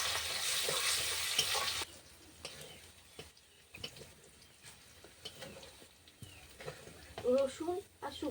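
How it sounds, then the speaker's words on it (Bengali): Garlic and dried chillies frying in hot oil, a bright sizzle for the first two seconds that drops to quiet crackling and occasional utensil clinks, with a person talking over it. "রসুন শুকনো লঙ্কা ফেঁচা করে রেখেছি এটা এই তেলের মধ্যে আমি দিয়ে দিব"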